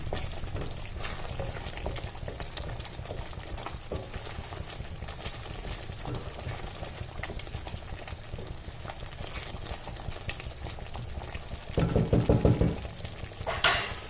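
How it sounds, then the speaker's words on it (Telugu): Makhana masala curry boiling in a pot, a steady close bubbling and crackling that runs throughout. Near the end comes a brief clatter of stirring or tapping. "ఇది మంచిగా బాయిల్ అవుతుంది కదా"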